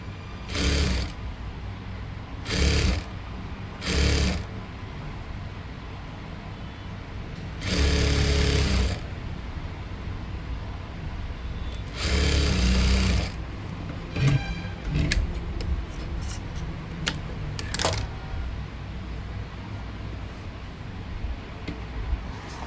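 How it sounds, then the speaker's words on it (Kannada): A sewing machine stitches a blouse in several loud, close bursts of rapid mechanical whirring. Quieter handling noise fills the gaps between runs, and nobody speaks. "ನಾನು ಫುಲ್ಲು ಸ್ಟಿಚ್ಚನ್ನು ಹಾಕ್ಕೊಂಡಾಯಿತು"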